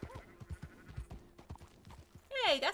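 A sheep bleats loudly near the end in the video game Red Dead Redemption 2, following a stretch of soft clopping hooves and faint voices in the background.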